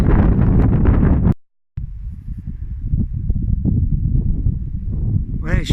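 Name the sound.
strong wind blowing on the microphone outdoors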